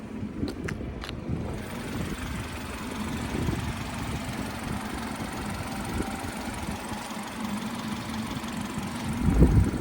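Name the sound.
BMW 430i xDrive engine idling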